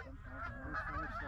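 Big geese honk during a Pennsylvania goose hunt, a faint cluster of overlapping nasal calls from a distance with no one speaking.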